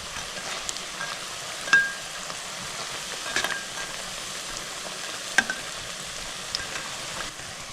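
Cauliflower pakora deep-frying in hot oil, a steady close sizzle with scattered sharp crackles and pops, and no talking.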